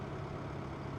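A compact tractor engine idles steadily in Farming Simulator 17, a continuous low rumble held at an even level for the whole moment with no talk over it.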